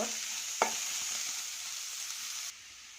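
One large onion sizzling in about ten spoons of hot oil, a bright steady frying hiss with a single sharp clack early on, before the sound cuts off abruptly near the end.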